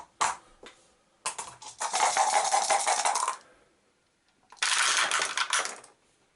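Dice for the Eldritch Horror board game are shaken and tumbled across a hard surface, with a few sharp clicks, then two long, close, rattling rolls separated by a short silence.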